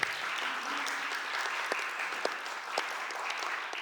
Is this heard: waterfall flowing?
no